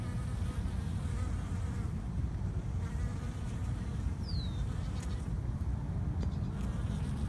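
Steady, dense buzzing of many honeybees fills the air continuously, close and loud, with no voices.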